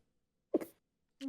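A single short sneeze bursts out close and fairly loud, followed a moment later by the start of a voice.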